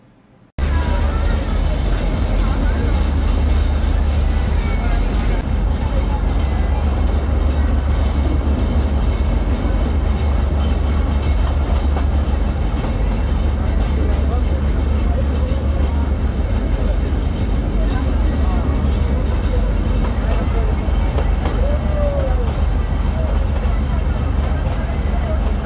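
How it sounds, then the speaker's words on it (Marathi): A Matheran toy train ride heard from inside the carriage, with a steady, loud rolling rumble and rattle that continues for the whole stretch. "तर आत्ता मी आहे टॉय ट्रेनमध्ये स्टेशनवर"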